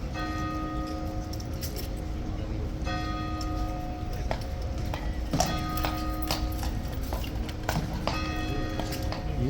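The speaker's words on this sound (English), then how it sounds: "He's a teeny bit cloppy actually, this horse" A horse's hooves clip-clop in a steady, clear rhythm on hard ground, with faint ringing tones and background bustle, no talk over them.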